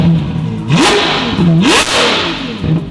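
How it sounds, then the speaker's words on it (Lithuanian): Ferrari 812 GTS with a Novitec aftermarket exhaust running from the manifold to the tips, factory catalysts and OPF filters removed: its engine is blipped in three sharp, loud revs that rise and fall back to idle, near and with no talk. "Automobilis turi labai įspūdingą išmetimo sistemą."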